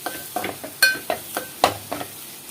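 Grated fresh coconut and cluster bean curry is stirred in a pan, with a series of sharp spoon scrapes and clinks over a soft, low sizzle, about eight distinct strokes.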